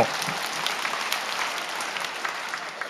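Steady applause from a church congregation during a sermon, a dense wash of clapping that holds evenly throughout without voices.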